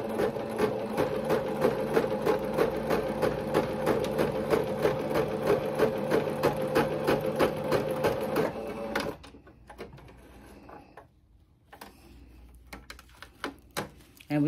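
A sewing machine stitches ruffle tutu socks in one continuous rhythmic run of rapid needle clatter for about nine seconds, close and steady, then stops, leaving faint handling noises and quiet shuffles.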